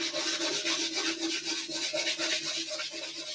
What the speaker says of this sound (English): It's amazing how the sandpaper, I mean, it like totally makes it so smooth.